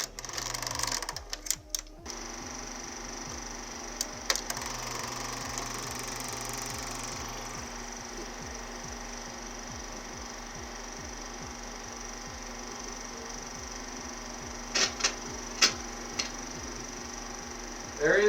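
A film projector runs with a steady, rapid mechanical clatter and whirring rhythm, fairly faint and continuous, with a few sharper clicks and handling noises at the start and later on.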